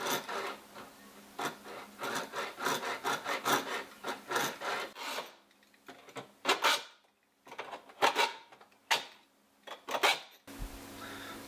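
A piece of pole being hand-sawn to make a shovel flag, heard as steady, close back-and-forth rasping strokes at a quick rhythm. The strokes turn into slower, separate pulls with gaps before stopping.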